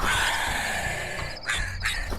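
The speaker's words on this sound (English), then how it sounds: "Faulkner opened the Pokeball in his hand, releasing the dark bird inside." A Honchkrow Pokémon cry, a harsh crow-like caw rasping over a dense background, followed by two short sharp squawks near the end.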